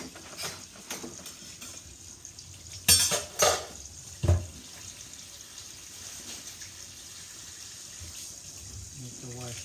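Tap water runs into a kitchen sink while a carrot is rinsed, a steady low wash with a few louder splashes and dish clatters partway through, fairly quiet overall.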